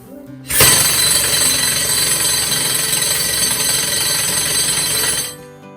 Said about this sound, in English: He's about to run the drill, which is the loudest thing in this museum.